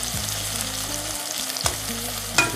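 Pieces of chicken fry in a pan, a constant close crackling sizzle with a steady low hum beneath it and a couple of brief scraping stirs.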